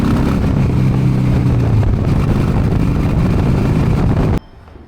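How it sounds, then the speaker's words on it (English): A Harley-Davidson motorcycle on the move, its engine rumble blended with heavy wind buffeting, loud and continuous until it cuts off abruptly near the end. "I took Friday off and I went Harley riding"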